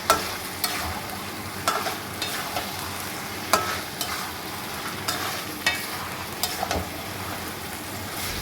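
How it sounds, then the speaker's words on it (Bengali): Marinated goat meat stirred and fried in spices in a pan, with a steady sizzle and regular sharp spatula scrapes and clacks recurring every second or so, close and alone. "এবার আমি ওই ম্যারিনেট করা মাংসটা মশলার মধ্যে দিয়ে নাড়াচাড়া করব।"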